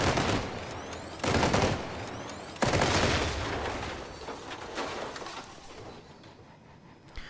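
Heavy weapon fire from new Crossout vehicle guns hammering a Leviathan in combat, in loud sustained bursts with two sharp onsets, fading toward the end.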